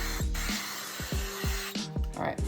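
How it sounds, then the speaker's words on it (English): Coconut oil cooking spray hisses onto a muffin pan in short bursts, close and fairly quiet, with a series of descending chirping tones running underneath. "I have 16 of them sprayed with coconut oil"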